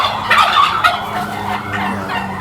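Ornamental White Holland turkeys gobble loudly and close by, a burst of rapid, warbling calls followed by softer clucking.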